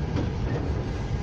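Freight train wagons rolling past behind a ChME3 locomotive: steady, loud, close rumble of wheels on rails with faint clicking, no talk.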